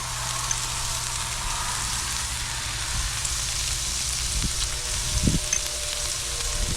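Oil sizzles steadily on a Blackstone griddle, a constant hiss of frying that runs the whole time, with a few faint clinks and scrapes near the end.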